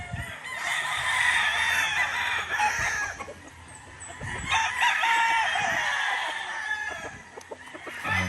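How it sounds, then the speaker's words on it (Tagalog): Roosters at a gamefarm crow in two loud, drawn-out bouts close by, with scattered clucks and faint farmyard noise between them. "Pagkatapos uh, ibitaw yung manok."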